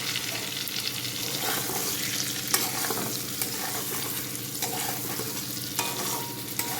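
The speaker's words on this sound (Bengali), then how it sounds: "হালকা একটু মশলাটা পটলের সঙ্গে গায়ে গায়ে মিশিয়ে দেবো" Spice paste stirred into pointed gourd in a pan, a low steady sizzle beneath repeated scraping strokes and occasional light clinks of the spoon.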